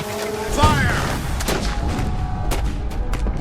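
Musket volleys and heavy cannon fire from the Battle of New Orleans crack and boom in a scattered, overlapping barrage, loud and close, with a brief voice near the start.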